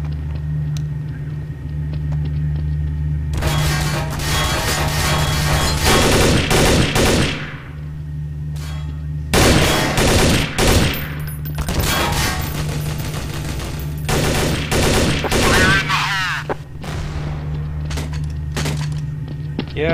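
Loud bursts of automatic gunfire in Counter-Strike: Source on the Nuke map, several rapid volleys with short pauses, close and dominant with no talk over them.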